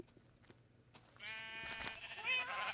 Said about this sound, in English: I have every single color of sheep in these pens with an extra row of white